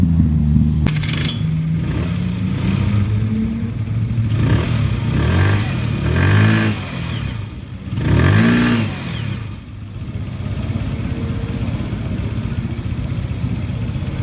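A Kuba Bluebird 50 scooter with a variator and 8.5 g rollers runs through repeated revs, its engine rising and falling in pitch over a steady idle, with a sharp clatter early on.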